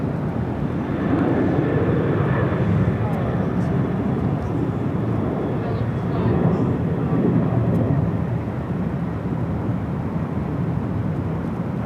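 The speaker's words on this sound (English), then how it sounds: "all eyes on the next arrival, the Maryland 1 livery, Southwest Airlines, flight 1310" Southwest Airlines jet in Maryland One livery arriving on runway 24 right at LAX, a steady, loud broadband roar that holds for the whole stretch with slight swells in the middle, no voices over it.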